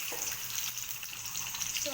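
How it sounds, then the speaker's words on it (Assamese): Onion frying in a hot wok (kerahi), a steady close sizzle and crackle of oil with faint stirring, running on without pause. "পিঁয়াজটো দি দিছোঁ"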